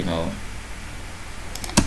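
A computer keyboard gives a few quick, sharp typing clicks near the end, after a brief moment of voice and a quiet room.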